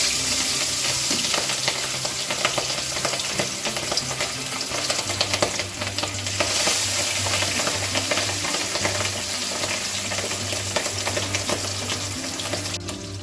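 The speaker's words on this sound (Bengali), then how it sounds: "এবারে ইলিশ মাছগুলো জাস্ট একটু এপিট ওপিট করে দেব" Hilsa fish pieces fry in hot oil in a pan and are flipped, making a loud, steady sizzle with stirring scrapes throughout and no talking.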